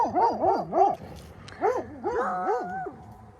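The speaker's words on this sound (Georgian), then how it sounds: "ეს შავი ძაღლი გამოყვა ჩვენ სოფლიდან და დაინახა ზევით მთაზე კიდე რამოდენიმე ძაღლი და გვიცავს" Black village dog barking at other dogs up on a mountainside, several close, loud, tonal bark-howls in two bursts with a short pause between.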